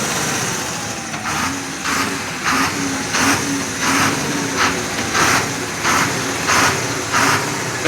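An overhauled engine idles steadily after its fuel pump timing was adjusted, giving an even, rhythmic beat of pulses under a continuous low hum, with no voices.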